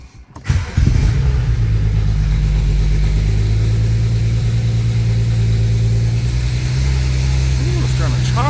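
A BMW N54 engine cranks and fires up after a radiator replacement, settling into a loud, steady, slightly uneven idle close by, with a brief higher rev near the end.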